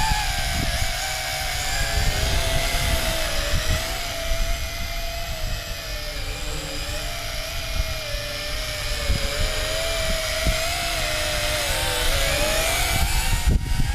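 A small JJRC H26wh wifi quadcopter drone flies at full throttle, its rotors giving a continuous loud, high-pitched whine with a slowly wavering pitch that stays steady throughout, with no voices.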